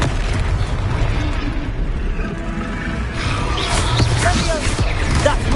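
A Confringo fire spell blasts in the Hogwarts Legacy video game, a loud rumbling burst and roar of flame with crackling debris that fades into lingering low rumble and scattered pops, no talk.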